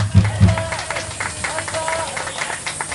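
An audience at a rock gig, Dracula Rock Festa, claps for the band's guitarist. A dense patter of hand claps fills the room, with a couple of low thumps near the start and indistinct voices mixed in.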